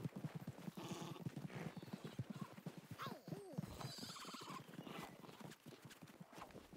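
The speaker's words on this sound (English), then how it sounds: "So next, mount your horse and chase him down." An Arabian horse in a video game gallops with rapid rhythmic clip-clop hoofbeats and gives a loud, wavering whinny midway, close and clear over steady game ambience.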